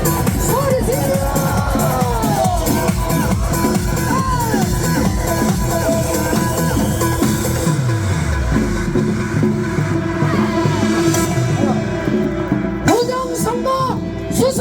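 A large standing crowd holding pickets overhead at a Korean street rally against election fraud shouts and cheers in a sustained, noisy roar of yelling voices lasting about fifteen seconds before it starts to thin out.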